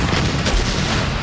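Loud pyrotechnic shell explosion, a single dense booming blast that fills the whole moment with broad rumbling noise.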